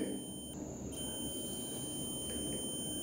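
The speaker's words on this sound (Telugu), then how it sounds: "ఇలా బజర్ సౌండ్ వస్తుంది" A multimeter's continuity buzzer sounds as a probe touches the positive pin of a power jack for a PCB, giving a steady high-pitched electronic tone that runs almost without a break, with no talking.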